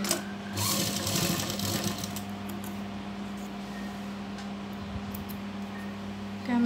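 A sewing machine stitches a fabric strip on a night gown with a steady, continuous motor hum and needle rattle, close and loud throughout, with no talking.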